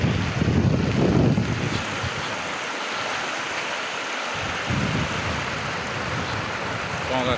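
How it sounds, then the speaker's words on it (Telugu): Floodwater from cyclone rain rushes forcefully over a blocked road, making a steady, loud broadband roar. Heavy wind buffets the microphone at times. "చూడండి ఎంత ఫోర్స్గా వాటర్"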